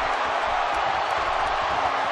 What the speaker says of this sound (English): Woods is showboating, hamming it up, and the crowd loves it